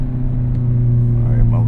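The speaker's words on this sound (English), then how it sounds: "always great to have a couple revs in the Miata early in the morning" A Mazda ND3 Miata engine idles and revs early in the morning, a steady close low rumble with a slight rise in pitch near the end and no talk.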